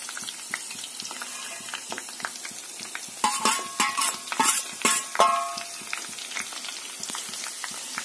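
Crushed camphor drops into hot oil already cooking garlic, datura and cloves. Soft ticks and stirring give way to a sudden burst of bright crackling sizzle for about two seconds, then the sound settles back down. No one speaks.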